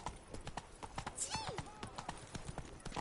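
A horse's hooves clip-clop at a brisk, steady trot in The Witcher 3 video game, with a short whinny midway and a voice speaking over the hoofbeats.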